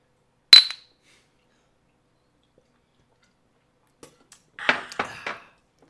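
Glasses meet in a toast with one bright, ringing clink, followed after a pause by a few light taps and clattering glassware sounds in a quiet room.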